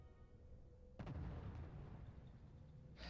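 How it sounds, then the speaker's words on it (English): Artillery in a tank-battle video game slams into a depot with a single sudden blast, then a rumbling explosive tail that fades, quiet overall and without speech. "Again, the artillery has found another depot to fire on."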